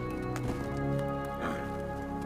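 Horse hooves from a commercial about a colt raised by goats, playing as a steady galloping clatter in the background with music.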